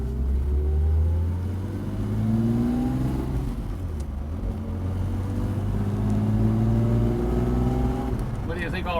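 A 1960s Mercedes 108 engine hums steadily while driving, with rising and falling tones as it works through the gears without revving hard, heard from inside the car under intermittent conversation.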